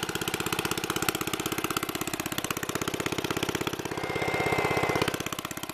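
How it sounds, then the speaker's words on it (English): A Briggs and Stratton Model Y engine on a 1930s Sears lawnmower idles steadily, with a fast, even firing rhythm throughout and a brief swell in loudness near the end, close by with no talking. "my Sears lawnmower. It's powered by a Briggs and Stratton Model Y."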